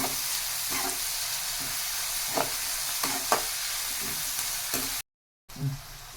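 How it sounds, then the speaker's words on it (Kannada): Sliced onions fry in oil toward golden brown for egg rice, a constant close sizzle with a few soft spatula scrapes and taps, briefly cut to silence before the frying resumes. "ಈರುಳ್ಳಿನ ಚೆನ್ನಾಗಿ ಫ್ರೈ ಮಾಡ್ಕೋಬೇಕು. ಅದು ಗೋಲ್ಡನ್ ಬ್ರೌನ್ ಬರಬೇಕು, ಆ ಥರ ಫ್ರೈ ಮಾಡ್ಕೊಳ್ಳಿ"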